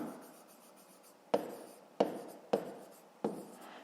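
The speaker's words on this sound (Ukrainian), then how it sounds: "Записуємо це, у нас буде ширина." Pen writing down a maths answer on paper: faint soft scratching, then four sharp taps or strokes at even intervals, close and quiet.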